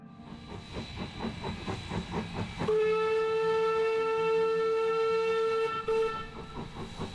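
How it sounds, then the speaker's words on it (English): Heritage steam train of the Queensland Pioneer Steam Railway near Ipswich, with rhythmic chuffing and rolling rail noise, then a long steady steam whistle blast that holds for several seconds before fading. "why not take the family for a ride on the steam train?"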